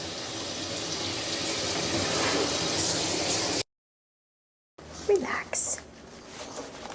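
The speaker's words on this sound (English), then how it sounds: "I gotta rinse it." Tap water runs steadily into a sink to rinse something off, a loud close rush that stops abruptly, followed by quieter handling sounds and soft voices.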